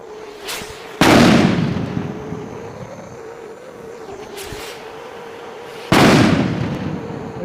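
Country-made nattu vedi firecracker rockets bursting, two loud sharp blasts a few seconds apart with smaller pops between, each booming blast trailing off over a steady low hum.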